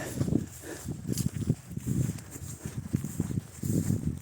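Hooves of a Belgian draft mare clopping at a walking pace on soft ground, steady and fairly close, with faint rustling around them.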